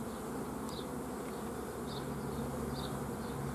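Honeybees buzz steadily around an open beehive while a beekeeper works the colonies, a close, continuous hum with a few individual bees passing near.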